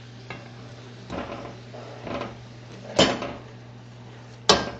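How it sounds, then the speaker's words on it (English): Greens being stirred and tossed in a pan on a stove that has just been turned off, with soft scraping and a few sharper clanks of utensil against the pan over a steady low background hum. "we're going to do our best to mix this together in this pan"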